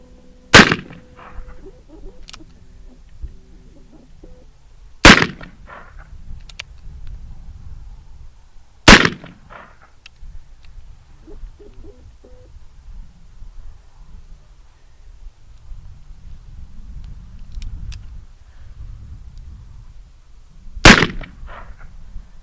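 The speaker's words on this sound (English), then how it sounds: "So let's take a few shots with it. Now, this is the first shot this gun has ever fired outside of the factory." Shots from an Uberti Paterson revolver fired at clay birds outdoors: four sharp, loud reports spaced several seconds apart, each with a brief ringing tail, separated by quiet background.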